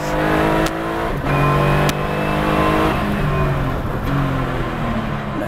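A loud air-cooled 4-litre Porsche 911 engine roars through rising revs and gear changes on a track, heard up close inside the car with a throaty, mechanical drone.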